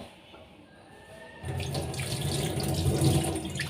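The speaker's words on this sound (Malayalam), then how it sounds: "നമുക്ക് നോക്കി കഴുകിയെടുക്കാം കേട്ടോ" Tap water runs over a steel vessel being washed in a home kitchen sink, starting abruptly partway through as a steady, close splashing stream that continues to the end.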